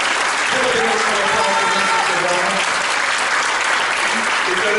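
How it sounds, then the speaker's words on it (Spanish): Sustained audience applause fills a church service honoring Nelson Serrano, a steady, dense roar of many hands clapping with faint voices mixed underneath throughout. "Give a big round of applause for Nelson."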